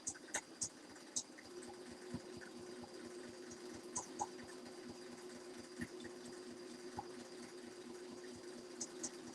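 Home sewing machine stitching quilt pieces, a quiet steady mechanical hum with rapid needle chatter and occasional sharp clicks and taps, running on its own at low level.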